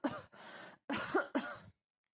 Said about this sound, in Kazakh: қас бөлмеден әлсіз, бірақ анық естілетін жөтелдің даусы шықты